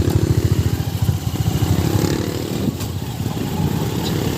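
A motorcycle engine idles nearby with a steady low chugging rumble throughout, no voices.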